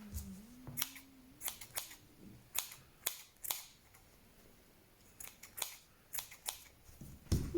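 Scissors snip yarn threads off a pom pom ladybird, a series of sharp, separate clicks spaced irregularly, close and fairly quiet with no talking.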